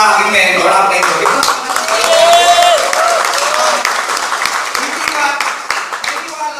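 Audience applause at a closing event: a crowd claps steadily and loudly throughout, with voices and cheering mixed in over the clapping.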